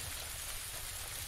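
Steady rain in PlayerUnknown's Battlegrounds, a dense even hiss of falling drops, faint and continuous, with no voices.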